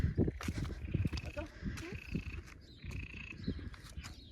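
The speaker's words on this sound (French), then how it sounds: "Ça, c'est des grenouilles." Frogs croaking outdoors at night, repeated rapid croaks and trills in irregular bursts from several nearby animals, with a faint higher call woven through the chorus.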